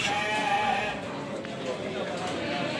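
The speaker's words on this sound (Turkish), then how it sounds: "Evet arkadaşlar beslemelik kuzu." A lamb bleats faintly and briefly amid a noisy outdoor livestock market bustle in Kadirli, Turkey, with people talking in the background.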